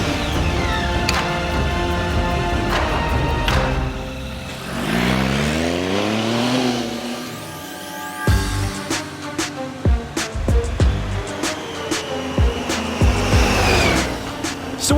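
A Triumph Tiger 800 XCX middleweight motorcycle rides on paved road, its engine droning loudly and steadily, then revving up through rising pitches with sharp throttle blips and gear changes.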